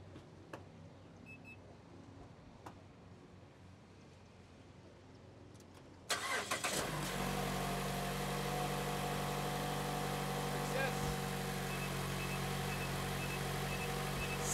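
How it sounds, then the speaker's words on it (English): A 2014 Mazda CX-5 SUV engine cranks and catches about six seconds in after a quiet stretch, then settles into a steady, fairly loud idle hum that runs to the end with no talking. "And now we're gonna fire it up to make sure it's running."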